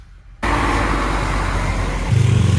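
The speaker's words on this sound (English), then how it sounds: "There goes the buses that she warned us about." Buses rumble past close by on a narrow mountain road in Montenegro. A loud engine roar cuts in abruptly and holds steady, then turns to a deeper, pulsing throb as a heavy vehicle passes near.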